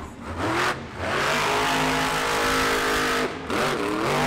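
A monster truck engine at a Monster Jam arena show in Tampa revs loud and close, holding a sustained roar that drops briefly twice as the throttle lifts, then surges back up.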